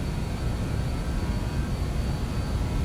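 Jet engines of a BAe 146 in Microsoft Flight Simulator 2020 spool up for takeoff, a loud continuous roar with a faint high whine and heavy low rumble, steady throughout and without voices.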